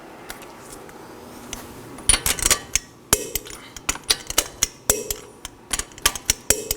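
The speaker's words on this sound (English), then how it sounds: "I'm going to torque the fasteners to 83 foot-pounds in a crisscross pattern" Sharp metallic clicks from a torque wrench tightening the wheel fasteners on a 2013-2019 Nissan Sentra, a quick irregular run of close, loud clicks and ratchet snaps repeating in bursts.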